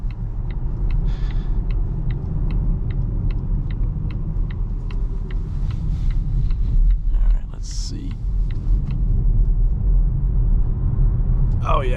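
A 2023 Volvo XC40 Recharge electric car accelerating, heard from inside the cabin as a steady low road and motor rumble that swells slightly, with faint clicks and a brief murmur over it.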